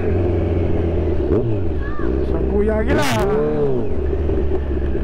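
Busy city street with many cars and motorcycles: engines rumble and rev nearby, and a vehicle sweeps past around the middle of the clip. Someone speaks briefly over the traffic.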